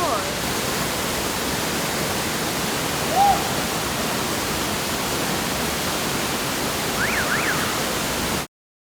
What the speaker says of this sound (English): we're currently at Aling Aling Waterfall